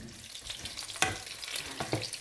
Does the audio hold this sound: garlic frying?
yes